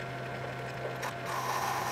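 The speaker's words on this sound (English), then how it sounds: "now we need to finish boring through this flange from this side" A machine bores through a metal flange for the turbo diesel pipework of a Saturn fitted with a Kubota D722 engine, giving a steady low hum with a faint grinding whine rising near the end.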